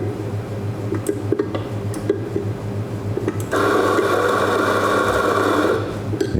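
A Rocket Giannino coffee grinder being set up beside a Rocket R Cinquantotto espresso machine: a low motor hum with clicks, then a louder grinding whir for a couple of seconds before it winds down.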